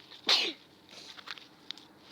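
A single sharp sneeze bursts out close by, followed by quiet rustling and faint background sounds.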